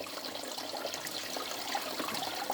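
Water drains steadily out of a 60-litre aquarium during a water change, a continuous close trickling and gurgling flow with no voices.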